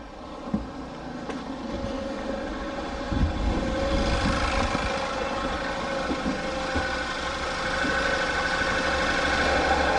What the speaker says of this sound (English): So we'll start the vehicle and see what happens.